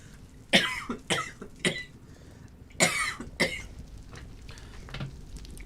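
A person coughs in a series of sharp, close bursts, several in quick succession with short pauses, loud against a quiet background.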